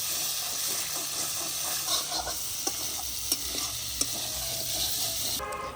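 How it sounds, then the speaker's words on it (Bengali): Prawns fry in a pan with a continuous sizzle and hiss, broken by a few sharp clinks of stirring, all heard close up at moderate volume. "আমাদের চিংড়ি মাছ ভাজা হয়ে গেছে, এবার এটাকে তুলে নিতে হবে।"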